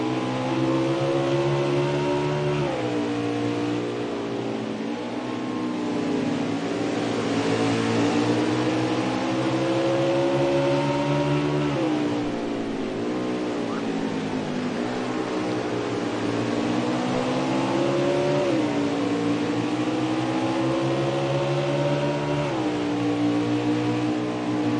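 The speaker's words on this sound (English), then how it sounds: "Riding on board with Sparkley" Onboard NASCAR Winston Cup race car at Canadian Tire, its V8 engine roaring loud and close as it revs up and down through repeated gear changes and corners.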